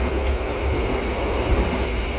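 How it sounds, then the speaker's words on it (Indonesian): Steady, heavy rumble of the Argo Wilis passenger train, heard from inside a carriage as continuous wheel and car noise with no talk. "Ini untuk pemberhentiannya kereta api Argo Wilis ya"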